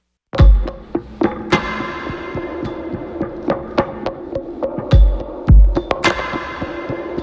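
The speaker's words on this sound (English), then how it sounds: "I'm gonna play you all the drums later on in the song here." Layered lo-fi drum beat built from a sample-driven kick and snare, playing a steady groove over an atmospheric bed, with heavy kick hits and a sharp snare repeating throughout, no voices.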